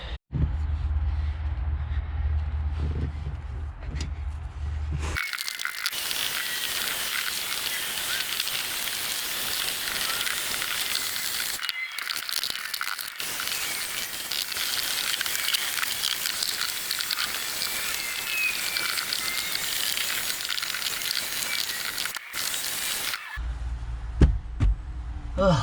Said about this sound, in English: that's going to be about it for vacuuming